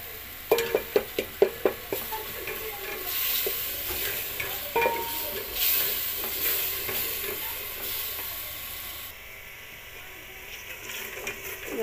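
Tomato masala stirred and fried in oil, opening with a quick series of sharp spoon clinks against the pan, then a steady sizzle with scraping stirs that gradually quiets.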